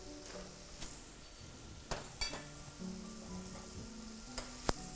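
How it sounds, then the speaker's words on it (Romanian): Vegetables with edamame and garlic sizzle in olive oil in a frying pan while being stirred, a steady hiss broken by several scraping and clattering utensil knocks. "Mai amestecăm un pic aici."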